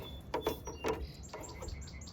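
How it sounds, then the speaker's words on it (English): Sparrows chirp faintly outdoors on an icy New England day, a few quick, thin tweets in a short cluster over a steady, low background hiss. "We got some sparrows singing for us."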